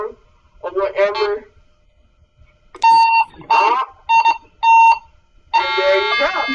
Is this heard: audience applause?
no